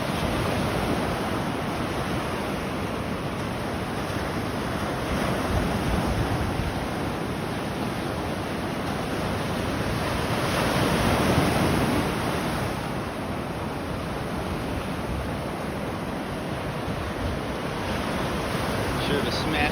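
Rough, stormy Gulf of Mexico surf breaking on a beach at sunrise, a continuous loud roar of waves with wind buffeting the microphone, swelling slightly in the middle.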